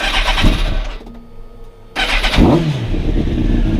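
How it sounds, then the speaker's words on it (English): A Kawasaki ZX10R motorcycle cranks with a whirring starter for about a second, then the engine catches and fires into a loud, rough idle with a quick rise in revs. "now start the bike to make sure the system runs"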